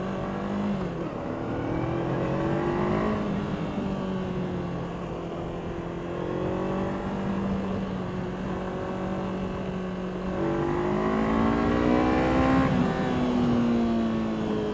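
A 2017 Honda CBR 500R sports motorcycle engine revs up and down repeatedly, its pitch climbing and falling in aggressive bursts at close range.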